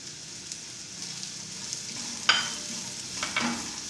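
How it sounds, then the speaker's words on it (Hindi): Capsicum added to lightly cooked carrots, frying gently in a pan: low steady sizzle with two sharp scraping stirs near the end, close and fairly quiet, no talk. "शिमला मिर्च को भी हल्का सा पका लेंगे"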